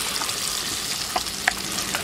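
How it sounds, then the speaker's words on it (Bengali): Blended chana dal paste hitting hot ghee with cardamom pods and cinnamon pieces, a close, steady hiss with a couple of sharp spatula clicks, no talking. "ডালটা দেওয়ার সাথে সাথে এটাকে নাড়তে থাকতে হবে"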